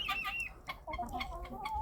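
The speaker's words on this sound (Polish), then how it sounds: "Ale to są stare kury." Old hens in a muddy farmyard cluck steadily and close by, a run of short, throaty clucks overlapping with one another and no voices.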